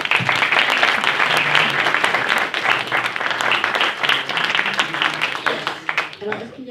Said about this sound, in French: Je peux vous applaudir très fort